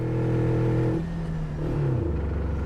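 A rear-wheel-drive car with a 4-speed manual transmission revs up loud and close, then its pitch drops with a gear change before climbing again, a steady throaty drone throughout.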